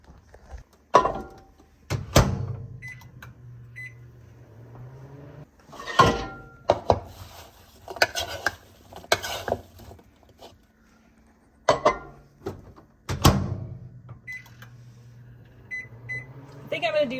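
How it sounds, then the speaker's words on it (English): A microwave oven starts up to cook apples for a Thanksgiving recipe, with sharp clunks of the door and buttons, short beeps and a steady low hum between the knocks. "cook it 30 seconds, stir it, and then cook it another 30 seconds in the microwave"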